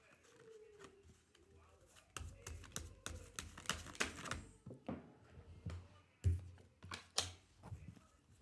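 Riffling card shuffles: several bursts of rapid papery flutters and taps, close and fairly quiet, with brief pauses between them.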